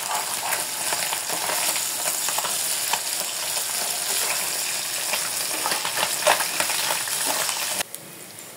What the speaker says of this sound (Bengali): মাছ ভাজার জন্য একটা প্যান বসিয়ে দিছি